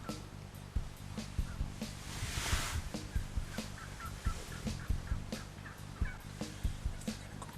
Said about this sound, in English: What a show these turkeys put on, and the good news is they're getting closer.